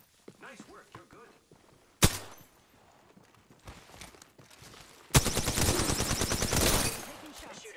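Gunfire in an Apex Legends match: a single sharp shot rings out, then a sustained loud burst of rapid automatic fire follows a few seconds later, with footsteps and quiet voices heard beforehand.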